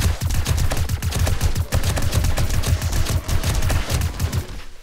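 Rapid, loud gunfire from a 7.62 rifle in the zombie survival game 7 Days to Die, a fast rhythmic string of close shots running continuously for about five seconds without talk.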